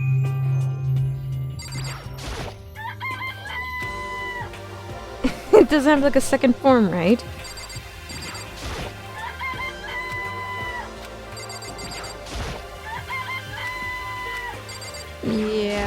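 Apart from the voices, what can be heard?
chickens clucking in video game Danganronpa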